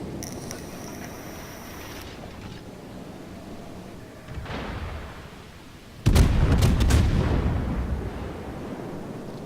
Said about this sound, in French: Petit tir sur le Conqueror.